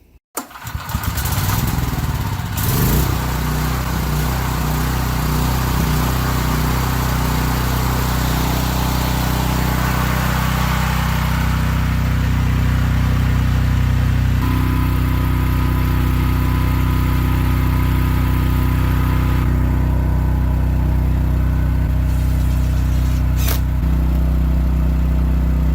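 A generator engine starts and runs inside a homemade generator box, giving a loud, steady, continuous motor drone with a low rumble that shifts slightly in pitch and load over time.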